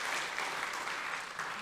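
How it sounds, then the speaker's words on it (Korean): A church congregation applauds during a Sunday service, producing steady, even, fairly soft clapping that fills the room throughout. "다시 한번 박수할까요?"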